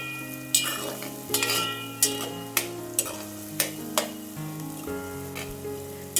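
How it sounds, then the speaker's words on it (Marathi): Onion and green ginger-garlic paste frying in oil for Konkani-style chicken sukka: a close, crackling sizzle punctuated by regular spatula strikes about every half second, over a faint steady tonal background. "आता हे हिरवं वाटण आणि कांदा तेलामध्ये छान आपण भाजून घेऊया।"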